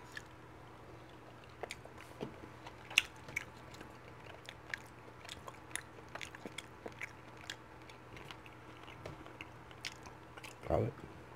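Chewing and biting tomahawk ribeye steak with cooked garlic, close and quiet, with scattered soft wet clicks and crunches throughout and a louder bite near the end.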